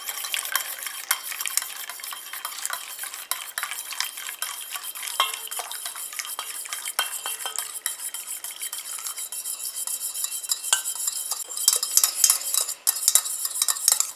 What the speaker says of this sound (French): Je mélange comme ça jusqu'à ce que mon émulsion épaississe